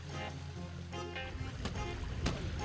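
Cold water spilling down an icy mountain valley stream makes a steady, full rushing wash that runs without a break, with faint tonal sounds mixed in.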